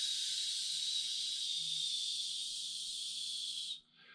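A long, steady exhaled hiss of breath forming a sustained S sound as part of a lung healing breathing exercise, loud and close, lasting nearly four seconds before cutting off.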